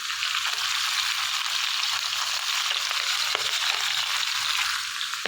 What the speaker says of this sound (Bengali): আর এখানে কাতলা মাছের মাথা ভাজা হচ্ছে